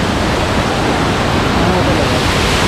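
River water rushing beside a riverside cottage in Oriental Mindoro, a loud, dense, unbroken roar of flowing water throughout.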